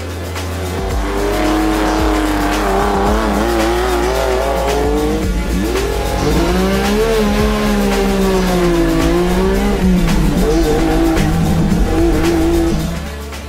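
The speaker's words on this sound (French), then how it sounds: "La sonorité de la voiture est un peu addictive" A powerful historic rally car engine revs loudly and continuously at the Rallye Monte-Carlo Historique, pitch swooping up and down through gear changes, close and aggressive.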